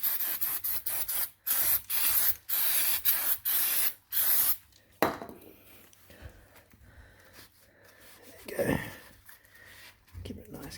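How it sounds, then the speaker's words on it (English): Brake cleaner sprayed in a rapid series of short hissing bursts onto a part of an Audi A4 B6 1.8T Quattro, close and loud, followed by quieter rubbing and a voice speaking. "So I'm actually going to clean this up with some brake cleaner."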